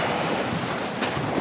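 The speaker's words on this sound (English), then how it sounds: "A few waves coming, I think that's from a boat." Waves from a passing trawler's wake wash and slosh against the shore during a winter night fishing trip, a steady close rush mixed with wind noise and no talking.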